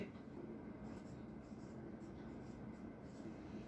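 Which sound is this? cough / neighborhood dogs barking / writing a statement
writing a statement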